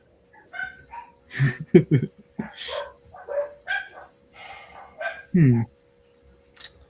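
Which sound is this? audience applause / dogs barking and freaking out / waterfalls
dogs barking and freaking out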